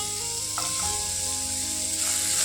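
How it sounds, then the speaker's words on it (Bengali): Chopped onion, tomato and garlic fry in mustard oil, giving a steady close sizzle with a light scrape of stirring near the start. "সব কিছু নেড়ে চেড়ে এগুলোকে ভেজে নিতে হবে"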